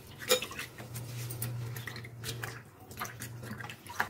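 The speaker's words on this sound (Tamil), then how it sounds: "இந்த வெத்தலையில் கழுவிக்கலாம்." Betel leaves are washed by hand in a vessel of water for a no-cook betel leaf stir-fry, making soft splashes, drips and light clinks of the pot at irregular moments over a quiet, close background.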